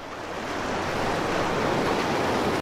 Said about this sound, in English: So there's the water.